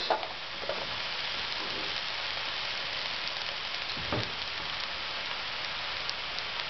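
Snow peas land in a hot stir-fry pan with mushrooms for a chicken stir-fry, setting off a steady, loud sizzle with a few brief tossing rattles, continuous and close without voices.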